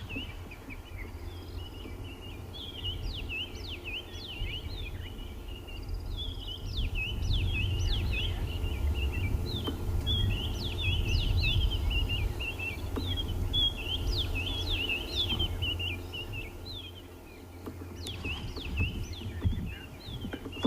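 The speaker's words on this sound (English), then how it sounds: "listening to all the bird calls around us at the moment" Repeated chirping bird calls in bursts over a low outdoor rumble at sunrise on an African safari, moderately distant, with several birds calling on and off throughout.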